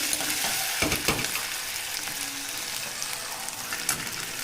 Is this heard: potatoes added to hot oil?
yes